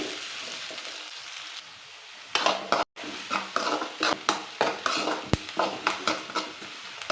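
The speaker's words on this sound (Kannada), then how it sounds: "ಇವಾಗ ಈರುಳ್ಳಿ ಹಾಕೊಳ್ಳಿ ಅದು ಎಣ್ಣೆಯಲ್ಲಿ ಚೆನ್ನಾಗಿ ಫ್ರೈ ಆಗಲಿ" Sliced onions hit hot oil with garlic for a Kannada garlic rasam: a soft sizzle at first, then louder frying with regular scraping stirs of a spoon against the pan.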